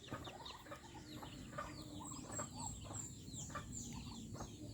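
Young ducklings peeping and chirping in a farmyard pen, a busy overlapping chorus of short high calls from several birds, fairly close, over a steady low background hum.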